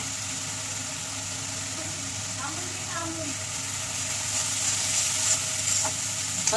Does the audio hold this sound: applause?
no